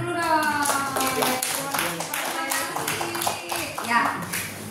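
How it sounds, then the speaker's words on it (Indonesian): An audience at a mental health talk applauds, with steady, rhythmic clapping running throughout and mixed with voices. "tepuk tangan dulu dong."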